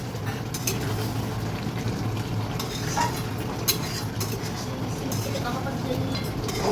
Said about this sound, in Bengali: একটুখানি নাড়িয়ে নেব